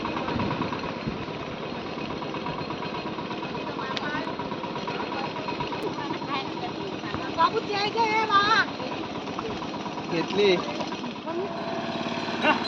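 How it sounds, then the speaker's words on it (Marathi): A steady ploughing machine engine drones continuously in a muddy paddy field during rice planting, fairly loud and close, with people talking over it throughout. "म्हणजे आवाज बघा मशीनचा किती आहे"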